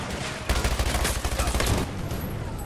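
Rapid automatic gunfire in the Battlefield 2042 video game, a loud, dense burst of shots lasting over a second amid continuous battle noise, then tapering off.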